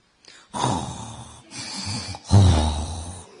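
A voice imitates snoring with three drawn-out, raspy snorts, the last the loudest and deepest, delivered close and clear in a religious sermon setting.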